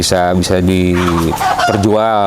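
Farm chickens cluck and a rooster crows loudly nearby, the crowing calls stretching out in two long bursts with clucks between.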